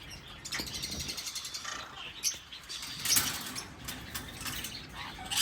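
A pair of red-factor sun conure parrots in a breeding setup gives scattered high chirps and squawks of moderate loudness over a busy background, with a rustle of movement and no speech.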